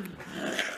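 A dog tugs and plays with its rope toy, giving a brief low growl with some snuffling and panting, close and at moderate volume.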